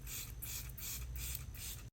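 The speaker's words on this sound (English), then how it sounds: "Topping with the gloss setting spray." Four or five quick, close hissing spritzes of a makeup setting spray pump in a row, ending abruptly.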